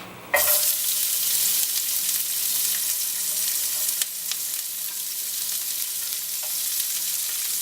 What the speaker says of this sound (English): Add a little more oil. We're going to put our onions in there.